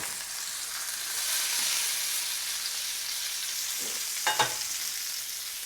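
A chuck roast sears in a hot pan, giving a steady, moderately quiet sizzle with a brief clatter near the end and no talk.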